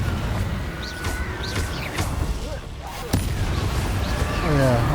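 In the Hogwarts Legacy video game, a Confringo blasting curse explodes with a booming burst near the three-second mark amid a rumbling, busy game soundscape with voices.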